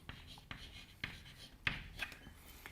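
An equation written by hand, with soft scratchy strokes and occasional sharper taps of the writing tool against the surface, faint and close, with no talking.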